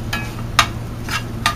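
Vegetables and green beans stir-frying in a home pan, a steady low sizzle broken by a few short bursts of stirring or tossing, close and moderately loud with no talking.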